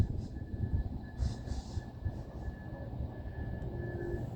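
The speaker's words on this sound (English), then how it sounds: "Symbol on that train was via 48." VIA Rail train 48, running from Union Station in Toronto toward Ottawa at night, rumbles steadily with a low continuous roar and a faint sustained tone above, heard from a distance without talk.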